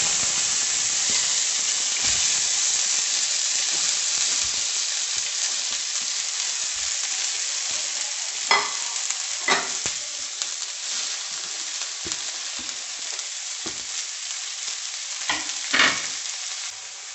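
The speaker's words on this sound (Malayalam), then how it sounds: "ആദ്യമേ തന്നെ അരിഞ്ഞ് വെച്ച ഈ സാധനങ്ങളെല്ലാം നമുക്കൊന്ന് എണ്ണ ഒഴിച്ച് ജസ്റ്റ് ഒന്ന് ചൂടാക്കിയെടുക്കണം" Chopped amaranth leaves and other vegetables hiss steadily in hot oil in a kadai, a loud continuous sizzle broken by several sharp clacks and scrapes of a spoon stirring, with no voices.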